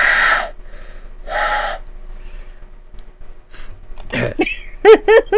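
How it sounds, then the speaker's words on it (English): A voice actor performs panicked breathing, several heavy breaths and gasps close to the microphone, ending in quick ragged vocal bursts. "It's cold and quiet here, save for the panicked sounds of your own breathing."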